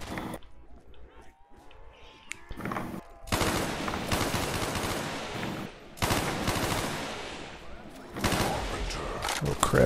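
Heavy gunfire in Black Ops 3 custom Zombies, long sustained automatic bursts that are loud and dense, broken by brief pauses, with a player talking over it.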